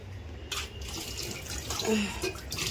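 Tap water runs steadily into a kitchen sink while something is washed, a broad hiss with splashes and small clinks, close, with a voice talking faintly underneath.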